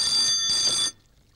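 A telephone rings in a Kannada film scene, a steady electronic ringing with a bright, sustained tone that stops abruptly, followed by near silence.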